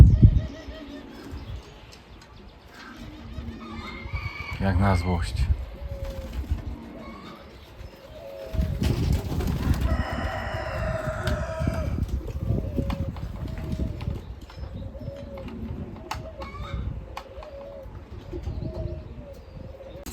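Racing pigeons coming back to the loft on a hot day after a 30 km training toss, with soft cooing and occasional wing flaps, some close and some farther off. Someone speaks briefly over them.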